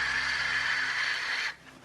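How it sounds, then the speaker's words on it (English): Wind noise captured by an acoustic sensor during a parachute descent through Titan's atmosphere, a steady hissing rush that suddenly drops to a much quieter level near the end. "In the end, what you hear is mostly wind noise as the parachute's descending through the atmosphere,"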